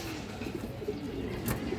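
A female sabji-colored pigeon coos softly in a short, continuous low murmur, close by, with no talk over it.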